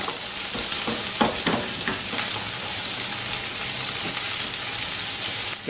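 Grated radish hashbrowns sizzle steadily in a hot frying pan, a dense close crackle with occasional scraping stirs layered over it.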